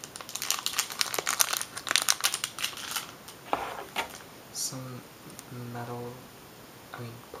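Postage packaging material crinkled and handled close to the mic, a dense burst of crackling rustles that thins into softer separate crinkles, with a soft-spoken voice talking in between.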